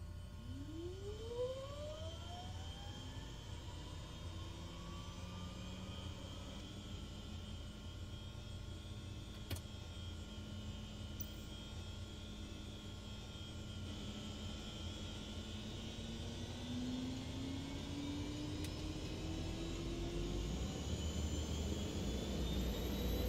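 TBM 850 turboprop engine starting up in Microsoft Flight Simulator 2024, a rising turbine whine that climbs in pitch and builds into a steady spooling hum, growing louder toward the end with no talk.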